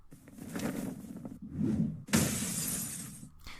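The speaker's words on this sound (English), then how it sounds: "This is a pretty good window breaking sound effect that I found." Glass shatters loudly in a bright burst of breaking shards, following a muffled rumbling whoosh, then the debris rings out and fades.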